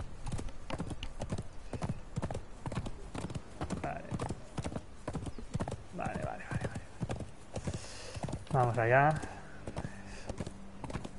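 A horse gallops in Conan Exiles, its hooves beating a fast, steady, close clip-clop under someone speaking Spanish, with a brief neigh near the end.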